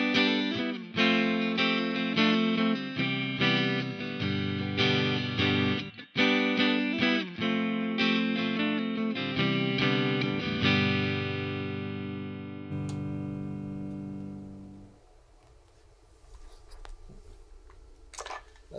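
A Telecaster-style electric guitar plays through a Fender Vintage 52 neck pickup with a clean neck-position tone. A run of picked notes and chords gives way to one sustained chord that rings out and slowly fades, followed by faint handling noise.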